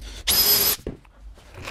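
A power drill drives a screw into the side of a wooden workbench in one loud, close half-second whirring burst, followed by faint clicks and quiet handling noise.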